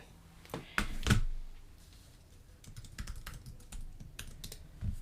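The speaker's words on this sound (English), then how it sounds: "I guess I have to type in a password here." Password being typed on a computer keyboard, with scattered key taps and a few heavier thumps, some close and loud, spread unevenly over several seconds with no talk.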